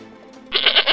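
A goat bleats loudly in one harsh, wavering call that fills the second half, close by and with no talk over it, after a quieter stretch of low background noise.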